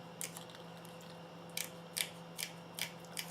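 Small scissors snip through card, about seven crisp, close cuts spaced unevenly over a quiet room hum, with no talking.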